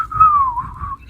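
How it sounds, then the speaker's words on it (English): A single loud, clear whistled tone that glides down and back up over about a second, close to the microphone. "Is he whistling loudly?"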